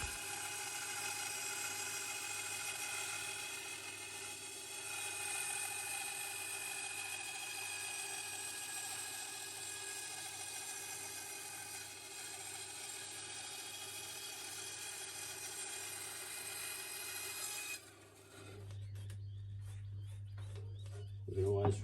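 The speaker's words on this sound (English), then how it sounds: "here is Luca cutting them out, ready for a trial fitting on the rudder cheek." A power tool whines steadily and close while cutting laminated plywood pieces for a wooden dinghy's rudder, then cuts out abruptly, leaving a low hum and faint clicks.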